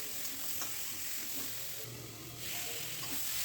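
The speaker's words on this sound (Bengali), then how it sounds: "আলুগুলো একটু ভেজে নেব" Potatoes fry in a pan with ginger, cumin seeds, salt and turmeric for a fish-head curry, giving a steady, close sizzle with faint stirring scrapes and no talking.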